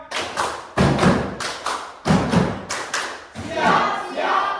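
Schoolchildren in an Indonesian classroom clap out the patterned 'tepuk siap' routine, loud rhythmic bursts of group claps with short pauses, ending in a brief murmur of young voices.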